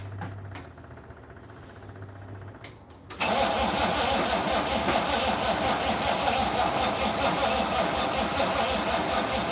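A 1955 Ford Pop fires up after more than ten years unused. Quiet clicks and faint cranking come first, then the engine catches suddenly and settles into a loud, steady running roar that lasts to the end.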